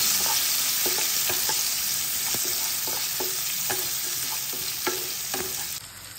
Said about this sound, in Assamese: এই তেলখিনিতে পিঁয়াজখিনি দি ল'লোঁ নহৰু আৰু জলকীয়াখিনিও দি দিলোঁ লৰাই ল'ম